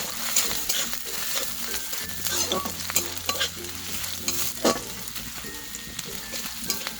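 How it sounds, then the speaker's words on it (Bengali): Chopped ginger frying with garlic in hot oil in a pan, a constant sizzle broken by frequent scraping and clinking of a spatula as it is stirred. "তো আদাটাকেও কিছু সময় ধরে ভেজে নিয়েছি।"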